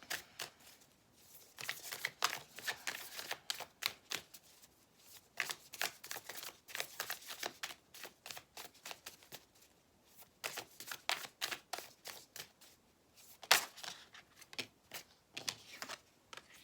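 Playing cards being shuffled over and over, bursts of crisp riffling and flicking that come in quick clusters with short pauses between, close and fairly quiet, with no talking.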